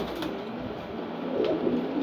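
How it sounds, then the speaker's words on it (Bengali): Red checker pigeons in a loft coo softly and continuously, a low murmuring burble that swells slightly near the end with no talking. "আর এই যে উপরে আছে রেড চেকার কবুতর"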